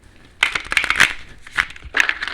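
A deck of Romance Angel oracle cards being shuffled by hand, quick bursts of riffling, flicking card noise in several short close-up runs.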